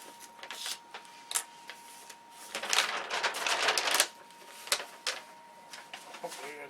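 Scissors snip through 0.2-ounce carbon veil, cutting it into strips, in a run of crisp, quiet cuts and rustles that bunch into a busier flurry midway, close by with no speech.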